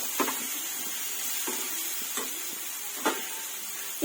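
Curry cooking in a pan after coriander powder is added, with a steady sizzling hiss broken by a few soft scraping stirs of a spoon, close and without talk.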